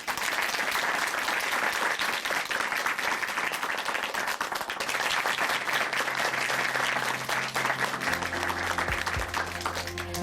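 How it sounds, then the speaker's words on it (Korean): A church audience at a testimony program applauds warmly, a sustained dense wash of clapping that stays loud throughout, with a sustained musical tone rising beneath it near the end. "다시 한번 박수 보내드리겠습니다."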